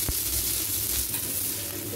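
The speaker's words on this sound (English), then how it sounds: "Oh, I love sizzle on a burger." Loud, steady sizzling of a smash burger patty frying on a hot griddle at a restaurant in Secunda, South Africa, a continuous crackling hiss with a brief scrape near the start.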